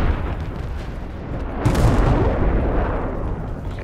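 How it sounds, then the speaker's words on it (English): Napalm strike explosions in Call of Duty Black Ops Cold War during team deathmatch, a dense continuous rumbling roar of blasts and bursts that swells louder midway and keeps churning, with no talk over it. "Enemy napalm strike incoming."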